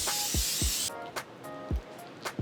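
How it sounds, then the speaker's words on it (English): Coconut oil cooking spray is sprayed onto baking dishes in one long, close hiss lasting nearly a second, followed by softer tapping and handling sounds. "Just gonna spray the baking dishes with this coconut oil cooking spray that I love."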